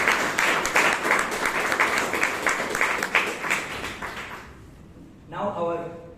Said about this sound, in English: let's give Toastmaster Sham a good round of applause